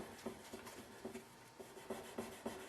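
Wizards polishing wadding rubbed over metal hardware on an Electra hollow-body guitar, quiet rhythmic back-and-forth strokes in a steady pattern of soft scuffing swishes, up close.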